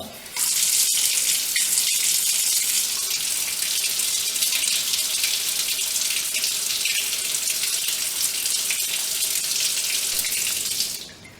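Water pours steadily from a tap in a Bernoulli pressure demonstration, a close, loud, even rushing gush that starts abruptly, holds for about ten seconds and then cuts off.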